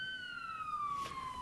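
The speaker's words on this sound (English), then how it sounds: "Well, Nancy, the lights are flashing, the sirens going, and they're going about 2 miles an hour coming down the road." A police car siren wails at the head of a slow-moving Loyalty Day parade in New Lenox, a single descending tone heard faintly from some distance with no talk.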